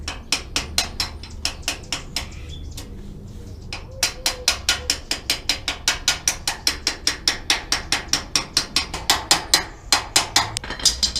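A side bearing race being hammered into place on a 1967 Chevrolet C10, a long run of sharp metallic strikes in steady rhythm, close and loud, with a short pause before the blows resume and quicken.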